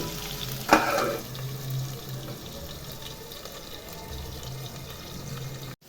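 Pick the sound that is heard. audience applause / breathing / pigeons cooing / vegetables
vegetables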